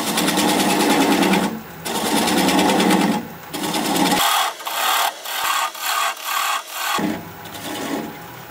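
Wood turning on a lathe at about 400 RPM with a swept-back bowl gouge on a small workpiece, giving a continuous coarse scraping hiss broken by short pauses and choppy cutting passes.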